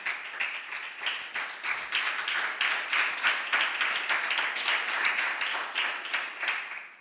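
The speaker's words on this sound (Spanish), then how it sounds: "denle un fuerte aplauso al Señor" A church Sunday school congregation claps loudly for the Lord: dense, steady applause with many overlapping hand claps that keep going for the whole stretch, with no voices on top.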